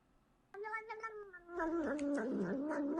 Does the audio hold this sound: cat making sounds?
yes